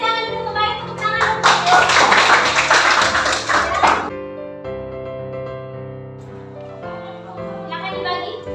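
Children in a classroom break into applause, a dense burst of clapping for about four seconds that then stops, leaving quieter sounds and a few voices at the end.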